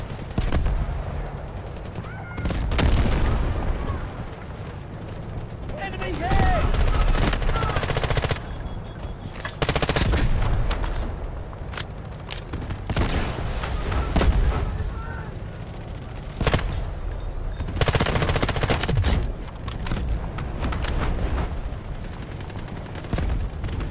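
Sustained gunfire from troops attacking a position in the military shooter Delta Force: Hawk Ops, with bursts of automatic weapons and scattered shots rolling continuously, loud and dense, with brief lulls between volleys.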